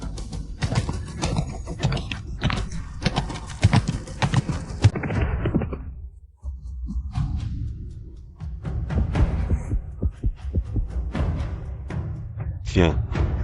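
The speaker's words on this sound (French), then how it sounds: "Le cheval est affolé" A panicked horse's hooves clip-clop rapidly and unevenly on hard ground, close and loud, amid shouting voices and a brief lull midway.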